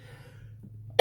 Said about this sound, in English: So I got a cough all of a sudden.